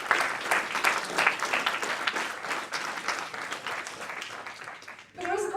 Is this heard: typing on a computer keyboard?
no